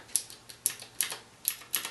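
Mechanical switches on a Razer Orbweaver gaming keypad click five times at a steady, unhurried pace, each press a sharp, bright, close tick with nothing else around it.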